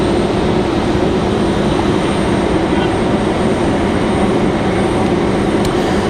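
A Republic airliner inbound from Chicago passes just west of Raleigh-Durham airport, making a loud, steady, broadband engine roar. It holds close and constant throughout, with rumble and wind-like buffeting and no clear talk.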